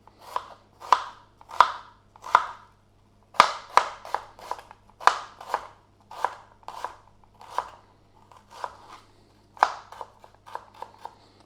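Onion being finely chopped with a knife on a board while a sausage and egg muffin is prepared: crisp, close knocks, some in quick pairs and runs, some spaced out, with no talk.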